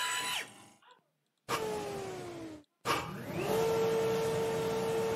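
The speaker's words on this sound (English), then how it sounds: "Check the vacuum." A vacuum cleaner runs with a steady motor whine that cuts off twice and restarts, its pitch sliding as it spins up, loud and close.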